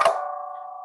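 One sharp, loud plucked strike on a pipa that rings on briefly, imitating a cannon blast.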